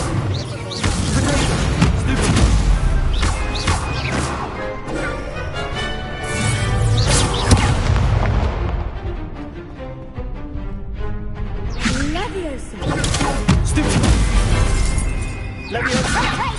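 Incendio fire spell blasts in Hogwarts Legacy, loud bursting, crashing impacts and whooshes layered over busy combat sound effects, with a voice shouting spell names in places.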